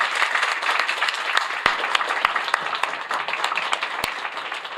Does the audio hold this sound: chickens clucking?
no